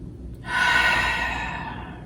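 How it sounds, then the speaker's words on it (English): A single long, full breath taken during pranayama yoga, a soft airy inhale-exhale rising after a quiet pause and slowly fading, close and alone. "Nice full breath"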